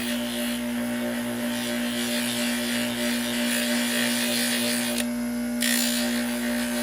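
A metal piece with deep scratches is worked over with an abrasive cleaning pad, giving a continuous close scouring rasp that runs steadily over a constant background motor hum.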